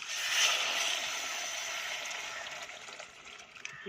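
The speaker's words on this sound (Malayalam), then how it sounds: "പുളിവെള്ളം ഒഴിക്കുന്നു" Tamarind water poured steadily into a pot of fish curry gives a continuous close-up splashing and trickling hiss that eases off slightly toward the end.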